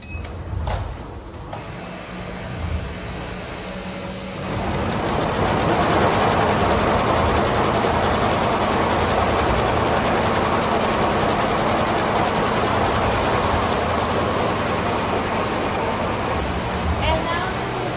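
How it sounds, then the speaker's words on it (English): Automatic sewing production line running inside a factory, a steady loud mechanical whir and hum that swells up after a few quieter seconds and continues without pause. "Automatic sewing production line"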